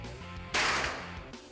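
A single sharp gunshot crack at a shooting gallery, loud and close, rising abruptly from a steady background hum and fading within a fraction of a second.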